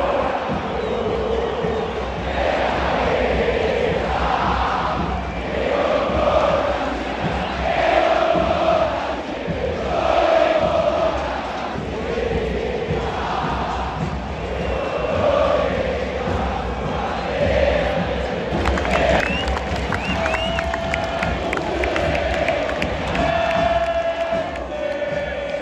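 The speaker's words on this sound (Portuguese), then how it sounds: "a torcida canta au au au" A football crowd at a River Plate versus Fluminense match in Buenos Aires sings a long rhythmic chant in unison, with repeated rising phrases and steady massed voices.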